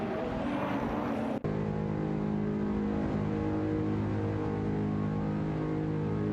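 Simulated race car engines in an AI-driven racing video game, a steady sustained drone with harmonic tones throughout after a brief brighter start, loud and continuous with no talk.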